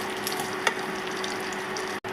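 Eggs fry in a pan with a close, even crackling sizzle, one brief scrape partway through and a short drop to silence near the end, with no talking.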